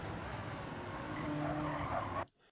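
A race car in Gran Turismo 7 skids with tires squealing loudly over engine roar, running steadily for about two seconds before it cuts off abruptly into near silence.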